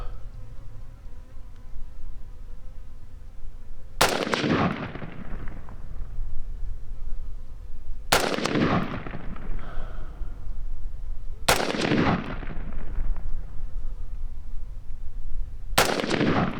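An Anderson Manufacturing AM-15 AR-15 rifle fires four loud, sharp shots spaced about four seconds apart outdoors, each blast ringing off briefly, while insects buzz steadily in the background between shots.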